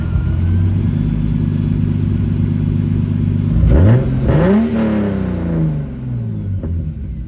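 A turbocharged M50 engine in a BMW E30 idles with a steady drone, then revs sharply up and back down before settling, loud and close with no talking.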